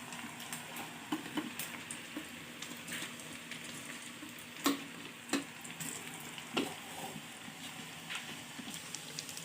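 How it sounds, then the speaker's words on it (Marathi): Crispy rice bhaje fritters deep-frying in hot oil give a soft, continuous sizzle with scattered pops and a few louder clacks from a utensil against the pan. "बघा भजे किती छान तळत आहेत"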